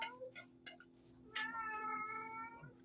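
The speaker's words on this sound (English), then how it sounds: "And I got a kitty cat wanting out." A house cat meows to be let outside, giving several short close meows followed by a longer drawn-out wail, with no talk over it.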